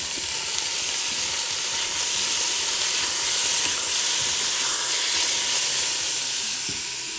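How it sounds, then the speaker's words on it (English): Beef sears in an Instant Pot with a loud, constant sizzle and hiss, close up and steady throughout. "And we're just gonna give this a good sear."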